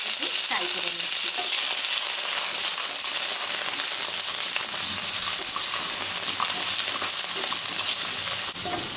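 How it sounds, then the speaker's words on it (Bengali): Potatoes frying in hot oil in a kadai over low to medium heat, giving a loud, unbroken bubbling sizzle with faint stirring scrapes and no voices. "লো টু মিডিয়াম হিটে আমি আলুগুলোকে দু তিন মিনিট ভালো করে একটু ফ্রাই করে নিয়েছি।"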